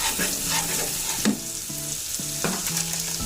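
Ginger paste sizzles and fries in a pan for paneer butter masala, a steady close hiss broken by the scrape and clink of a spoon stirring.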